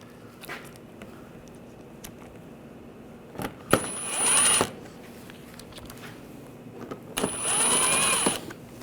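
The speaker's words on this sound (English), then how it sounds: "And put these screws in. Snug these down." Screws on the coolant temperature sensor housing of a 2009-2017 Volkswagen Tiguan 2.0L four-cylinder are driven snug with a powered driver: two separate whirring bursts of about a second each, close and fairly loud, with quiet pauses around them.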